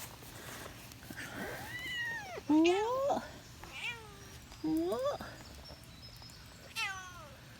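A cat on an early-morning walk after rainstorms meows repeatedly, about five or six sharp, close, fairly loud calls, some rising and some falling in pitch, while a person speaks briefly between them.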